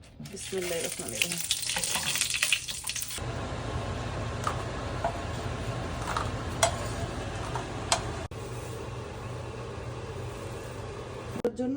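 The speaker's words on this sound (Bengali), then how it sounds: "এখন শুকনো মরিচ বেজে নিব" Dried red chillies frying in a pan of hot oil, a steady sizzle and crackle with scattered ticks and pops and some soft stirring, louder and brighter for the first few seconds before settling to a lower continuous fry.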